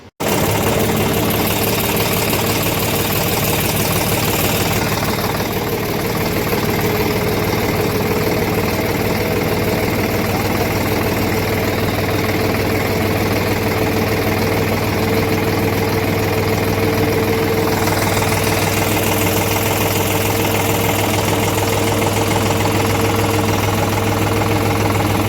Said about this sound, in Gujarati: આ એવડું ટ્રેક્ટર છે ને ભાઈ માંડવી માકવા આવ્યું